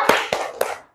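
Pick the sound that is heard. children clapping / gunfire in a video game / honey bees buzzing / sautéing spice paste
children clapping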